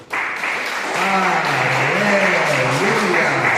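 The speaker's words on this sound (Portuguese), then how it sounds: "Vamos aplaudir o nome do Senhor." A church congregation claps loudly and continuously while a voice speaks and sings over the applause.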